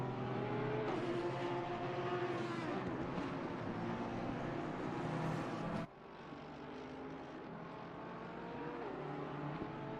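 Porsche GT3 race car at speed on the Snetterton circuit, a sustained loud engine roar with shifting pitch and an abrupt change partway through as the car passes or shifts.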